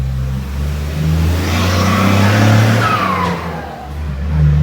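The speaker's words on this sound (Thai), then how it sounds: "จะมีเสียงรบกวนเยอะมาก เพราะว่าเราอยู่ตรงข้างถนน" Roadside traffic noise: a steady engine rumble from passing vehicles, with one car swelling louder and whooshing by nearby.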